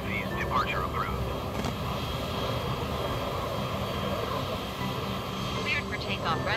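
Eurofighter jet engine roaring steadily in a flight simulator game, a continuous broadband rumble held at even loudness throughout, with a voice talking over it.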